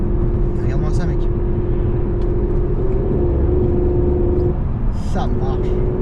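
A Mercedes CL600 V12, once broken down and now revived, runs steadily with a low rumble and whirring drone and a slight rise in revs partway through, close by, while someone talks over it.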